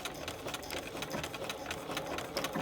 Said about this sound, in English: from here, we sew all the way down to the end